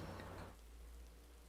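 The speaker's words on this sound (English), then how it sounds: "Now it decides to rain. It's a wet free practice." Rain falls in a Spa racing video game as a soft, steady hiss of drops, with a low continuous rumble underneath and a slightly busier patch at the start, faint and with no talking.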